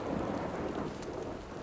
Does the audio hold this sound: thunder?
yes